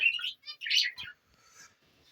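Pet finches in a home breeding cage chirp in quick bright bursts, a few short tweets clustered close together, then fainter twittering trailing off.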